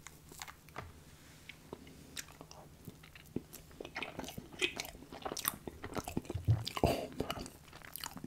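Chocolate orange cheesecake being eaten up close, with soft bites and moist chewing repeated through the stretch over a low background, and a brief quiet spoken remark partway through.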